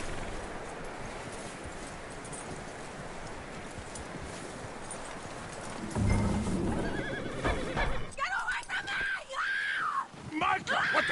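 A skittish horse in Red Dead Redemption 2 whinnies loudly near the end after a stretch of rough wind-like noise and hoof clatter, with a voice talking over it.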